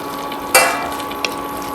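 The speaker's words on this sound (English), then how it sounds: "now I will add this hot water." Hot water poured into a pot of Maharashtrian chicken curry gives one sudden loud hissing splash that fades quickly, followed by a faint second splash, over a steady background hum.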